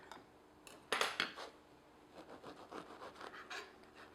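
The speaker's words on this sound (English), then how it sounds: "So let's cut some bread." A knife saws through a white loaf and a walnut raisin loaf on a board in a kitchen, giving faint scratchy rasps and a few light clinks in short, uneven strokes.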